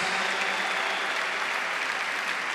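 Steady applause from a church crowd honoring the Virgin of Fátima at a youth gathering, dense and continuous for a couple of seconds without pause.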